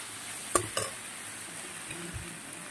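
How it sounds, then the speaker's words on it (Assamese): Spices and boiled potatoes are stirred in a frying pan for an aji patal curry, with two sharp utensil clinks against the metal early on, then a soft, quiet scraping and faint sizzle with no talk. "গোটেইখিনি দি মেলি আৰু এতিয়া ধুনীয়াকৈ লৰাই দিওঁ।"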